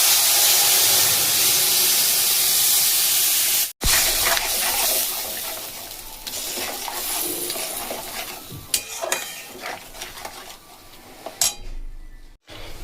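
Ground spice paste hits hot oil in a pan while cooking Bengali shukto, giving a loud sizzle and frying hiss with stirring and utensil scrapes against the pan, easing off midway and continuing with intermittent clinks.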